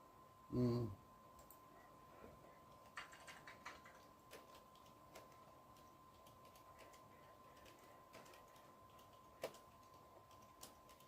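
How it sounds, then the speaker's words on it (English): Faint keystrokes on a computer keyboard at a desktop PC with an Asus M5A78L-M motherboard, tapped sparsely and irregularly, with one louder thump near the start and quiet background hum between clicks. "I'm typing on one keyboard."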